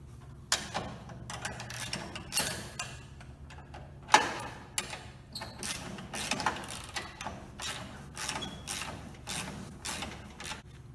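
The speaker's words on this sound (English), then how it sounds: "And then tighten with the socket head and wrench." A socket wrench ratchets as a nut is tightened on a bolt during a main actuator replacement, a steady run of close, sharp clicking with short pauses between strokes.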